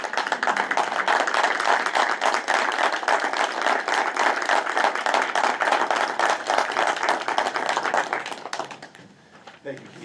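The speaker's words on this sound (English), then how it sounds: "maybe a round of applause" Steady applause from a council meeting audience honoring a retiring official after 39 years of service, dense clapping holding for about eight seconds before fading out near the end.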